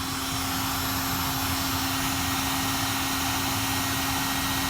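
Heat gun running on its low fan setting, a steady, loud airflow whoosh with a constant motor hum throughout, no talking.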